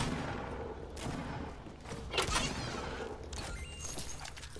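Video game gunfire, a series of faint distant shots and bursts with a sharper crack near the middle, heard against a low background hiss.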